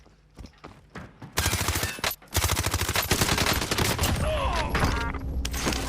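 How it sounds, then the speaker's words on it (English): MP5 submachine gun hip-fired in Call of Duty Warzone, sounding as loud, rapid automatic bursts that start sparse and build into sustained continuous fire, with a faint voice underneath. "Run around with the MP5 out, or hip fire."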